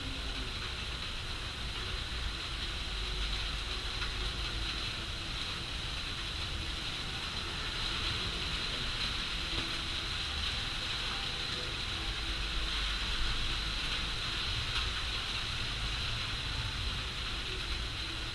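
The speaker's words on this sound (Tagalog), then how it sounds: "Maulan, sobrang ulan." Heavy rain falling outdoors as a steady, dense hiss of even loudness from start to finish, with no voices over it.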